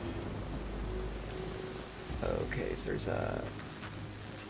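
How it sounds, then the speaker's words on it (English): Rain falling in the video game Arc Raiders, a steady soft wash of patter under a person talking, with a brief burst of louder activity midway. "Looks like it's raining now."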